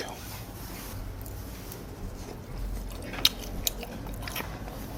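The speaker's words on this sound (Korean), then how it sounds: "아, 이번에는 순대 순대도 먹어봐" Someone bites into Korean sundae blood sausage from a street snack stall and chews it close to the mic, with soft, moist chewing and a couple of sharper crunchy clicks against a quiet background.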